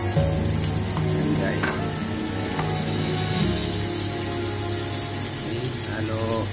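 Yellowtail fish scraps sizzle steadily in a hot pan while being stirred, a continuous close-up frying hiss with occasional scraping of the utensil.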